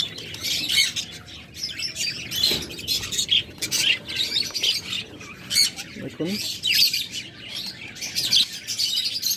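Budgerigars kept in pairs for sale chirp and squawk in a steady, busy chatter of bright high calls throughout, close by, with someone talking over them.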